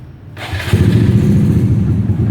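A fairly new motorbike, ridden on daily errands in Vietnam, starts up: a thud and crank, then the engine settles into a steady, loud, close idle rumble.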